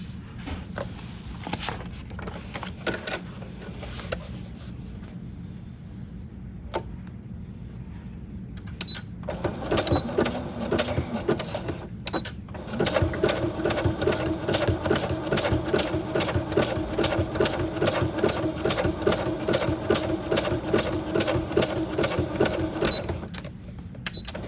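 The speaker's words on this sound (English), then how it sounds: "I did a combination of straight stitch and zigzag stitch around the pocket" A sewing machine runs steady stitching bursts, first straight stitching and then zigzag, sewing around a fabric pocket. The motor whirs loud and close in long runs with short pauses between, and no one speaks.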